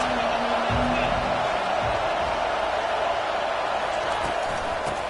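A steady roar of a packed football stadium crowd at a Tennessee versus LSU college game, a dense continuous wash of cheering and noise that holds for the whole stretch, with faint voices woven in.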